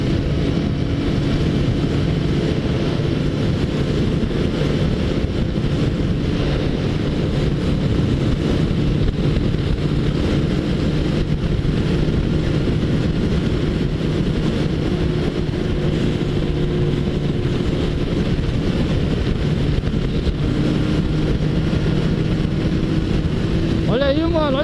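A Suzuki Bandit 1250 motorcycle runs hard along the Dutra highway, its engine a loud, steady drone under heavy wind roar that continues without a break.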